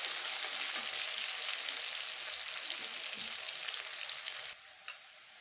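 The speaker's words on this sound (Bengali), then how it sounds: "পেঁয়াজ কটা আমি ভেজে নেব" Onions frying in a pan for a vegan jackfruit curry, a soft, even sizzle with faint crackle, fairly quiet and steady, dropping abruptly near the end to a lower hiss with one small clink.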